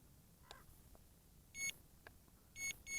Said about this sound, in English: we get a little beeping for the return to home